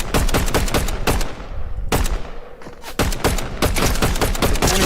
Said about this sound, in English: I think I heard gunshots this way.